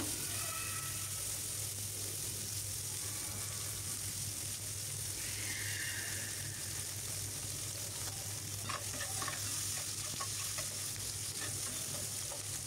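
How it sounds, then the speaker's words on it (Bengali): Onions frying in oil in a pan for egg curry, giving a steady, even sizzle that holds without break, with occasional faint stirring scrapes, heard fairly quietly and close. "এই তো পেঁয়াজগুলো কিন্তু আমি হালকা ব্রাউন করে ভেজে নিব"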